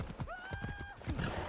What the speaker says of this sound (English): I wanted to call the horse.